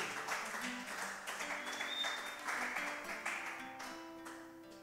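A church congregation applauding together, steady mixed clapping with some voices and a sustained tone underneath, moderately faint and continuous throughout.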